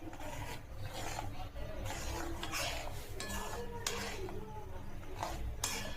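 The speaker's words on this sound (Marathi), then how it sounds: "छान असं मिक्स करून घ्यायचं आहे" A spoon scrapes and knocks around a pot while peanut amti, a fasting-style curry, is mixed, with repeated soft rasping strokes and occasional clinks over a steady low hum.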